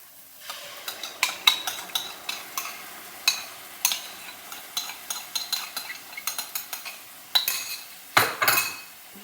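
Spoon stirring dum aloo curry with curd and red chilli paste in a pan, a steady run of close scraping clinks against the metal with faint sizzling underneath, no talk.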